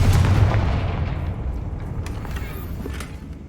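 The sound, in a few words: spell blasts cast in Hogwarts Legacy video game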